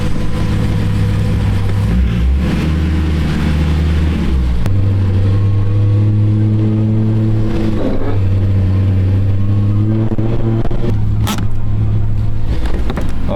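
Rebuilt rollover BMW E92 M3 pulled outside, its engine running and revving in steady loud bursts, close by with no voices.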